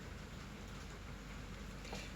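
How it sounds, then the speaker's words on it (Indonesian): Steady, dense rain falling continuously at home, a constant even hiss with no pauses and no talk over it. "Suara hujan terus dari kemarin."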